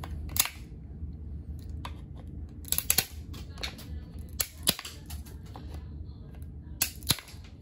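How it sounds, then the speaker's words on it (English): A plastic graded card slab being cut open, giving sharp isolated snaps and clicks at irregular intervals over a low background hum, close and without talk. "This one, don't want it to shard, so you just kind of cut around it."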